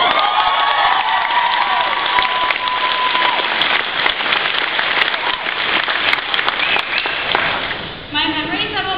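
An audience applauds graduating peers after a valedictorian speech, with loud, dense, sustained clapping and scattered cheers that begin to thin and fade near the end.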